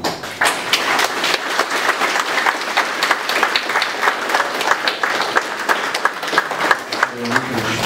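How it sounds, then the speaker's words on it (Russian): An audience at a press conference breaks into sustained, loud applause. Dense, even clapping continues throughout, and a voice enters near the end. "Давайте, братцы и девушки, похлопаем."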